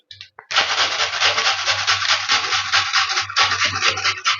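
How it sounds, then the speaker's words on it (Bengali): A pumpkin is grated by hand on a kitchen grater. After a brief start, a close, loud and fast scraping rasp of rapid back-and-forth strokes runs continuously. "এইভাবে পুরো কুমড়োগুলো আমি ঘষে নেব"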